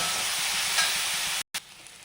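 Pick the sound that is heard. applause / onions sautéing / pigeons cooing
onions sautéing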